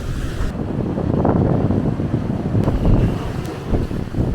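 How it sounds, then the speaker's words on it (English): Wind buffets the microphone on Flagler Beach at high tide, a steady, loud low-frequency rumble that carries through the whole stretch, with surf from the rising tide washing underneath and no talk. "Probably a lot of wind."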